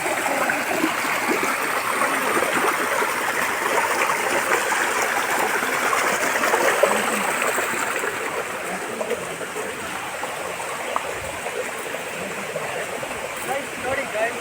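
Cold stream water flows over rocks on a forest route in the Sirsi–Kumta area, a constant close rushing hiss that holds steady throughout, with occasional faint voices nearby.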